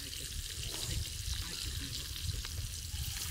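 Chicken in Agri masala frying in oil on a clay roof tile: a loud, dense, continuous sizzle and crackle, close by and steady throughout.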